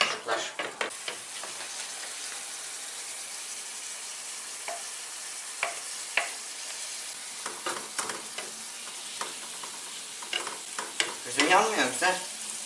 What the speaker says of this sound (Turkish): Bunlar çıtırlıyor.